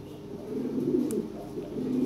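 A pair of Lahori pigeons coos in a low, steady, rolling murmur, close and continuous, with no voices over it.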